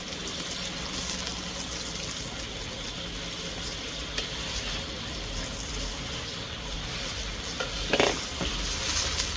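Beef and mixed vegetables stir-fry in oyster sauce in a hot pan, with a loud continuous sizzle throughout, occasional stirring scrapes and a brief louder burst near the end, close up with no talk.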